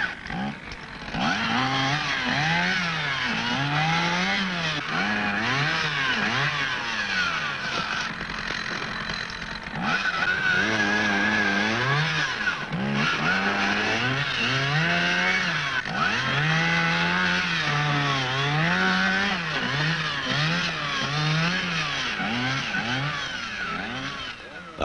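A chainsaw runs hard through a tree in a long, loud, steady burst, its engine note rising and falling as the bar bites into the wood and revs between cuts.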